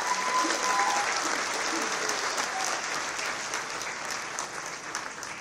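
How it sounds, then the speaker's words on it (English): Presentation audience claps in a dense, sustained round of applause that stays loud and even, slowly tapering near the end, heard from within the hall. "let's give a big round of applause for SHARE"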